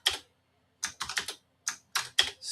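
Python code is typed on a computer keyboard in short bursts of close, crisp key clicks separated by brief pauses, fairly quiet and with no voices.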